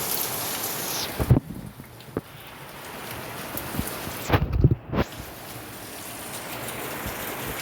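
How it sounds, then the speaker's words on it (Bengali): Heavy rain falls in a steady wash of noise, broken by a couple of brief louder knocks and short dips before the downpour resumes. "দেখো বন্ধুরা, জোরে বৃষ্টি হচ্ছে"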